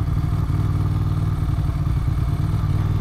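A 1994 Ducati 900 Supersport's air-cooled V-twin idles steadily up close, a deep continuous throb with a faint mechanical clatter, no voices over it.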